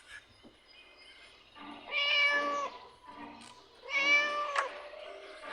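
A cat in the Scary Teacher video game gives two clear, drawn-out meows a couple of seconds apart. A faint voice is heard quietly underneath.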